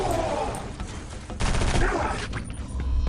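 Dense gunfire from the first-person shooter Area 51 fills a loud, continuous stretch of rapid overlapping shots and bursts, with a swell of heavier firing midway and faint talk underneath.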